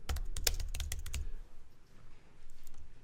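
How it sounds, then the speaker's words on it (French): A short word typed on a computer keyboard: a quick burst of crisp, close key clicks for about a second, then near silence with faint room noise. "vous allez taper un petit mot"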